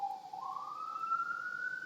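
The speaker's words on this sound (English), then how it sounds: "you hear the sirens, I'm sure, in the background" A police siren sounds in the background as a single steady tone that slowly rises in pitch, continuous and moderately loud, with no talk over it.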